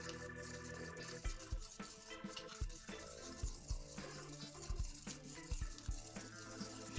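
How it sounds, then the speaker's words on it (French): Spoon stirring a wet glue-free homemade slime mixture in a bowl, producing repeated soft scraping clinks and squelchy wet sounds in an irregular rhythm, fairly quiet and close. "Allez, on vient mélanger et normalement on doit obtenir un slime."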